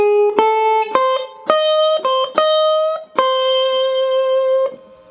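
Electric guitar picks the first measure of a lick, a short run of clean single notes with slight bends, some ringing out, played close and solo with no talking.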